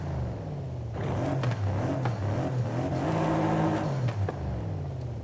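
A car engine with a stock exhaust in the racing game Forza Horizon 5, revving repeatedly with rising and falling engine pitch, loud and close, with no talking.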